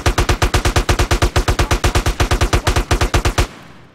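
Sustained automatic AK rifle fire in GTA, about two dozen loud, rapid, evenly spaced shots in one long burst that stops abruptly, leaving a short fading echo.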